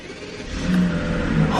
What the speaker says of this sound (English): let me give it a start up and let's listen to it.